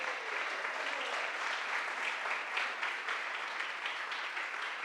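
Steady applause fills a church gathering, a dense and even wash of clapping from the congregation that holds at a moderate level without pause.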